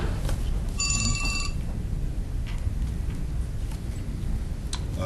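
A brief electronic mobile phone ring trills once near the start during a Richmond City Council meeting, over a steady noisy room background with faint clicks.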